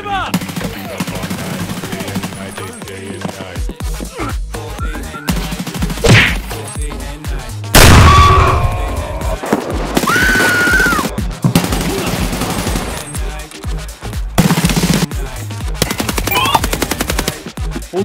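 Escape from Tarkov game gunfire: repeated loud automatic bursts and single shots across the stretch, with pauses between volleys and a few voices talking over parts of it.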